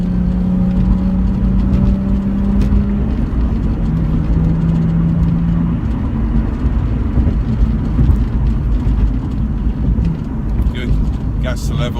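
Car accelerating on a race circuit during a circuit driving lesson, a steady loud engine drone holding throughout, heard from inside with an instructor talking over it.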